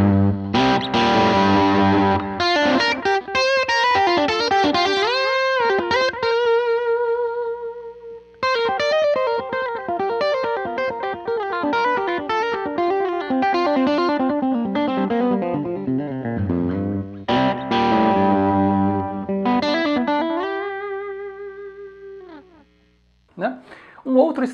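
Electric guitar through an overdrive pedal at maximum plays sustained, distorted notes and chords, loud and saturated, with brief pauses between phrases.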